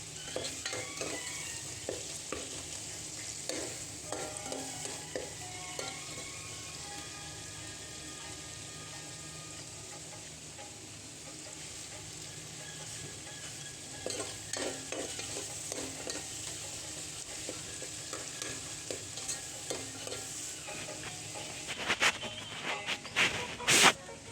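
Onions fry lightly in oil in a pan for a chicken dish, a soft continuous sizzle broken by repeated spatula stirs and scrapes, growing busier near the end with a few sharp clinks, heard alone with no talk.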